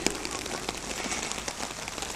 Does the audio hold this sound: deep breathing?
no